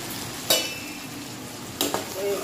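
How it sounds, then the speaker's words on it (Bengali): Spices, soaked rice and lentils fry in a pan with a continuous hissing sizzle, and two sharper bursts mark stirring or the spoon striking the pan; no one talks. "এবার এই মশলাটা দিয়ে একটু কষাবো, মানে আর চাল ডালটাকে ভেজে নেবো।"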